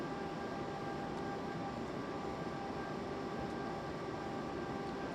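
Steady rolling rumble of a train in the Train Sim World game on a South of England route, a dense continuous wash of running noise and faint repetitive rail clicking, loud and constant throughout without voices.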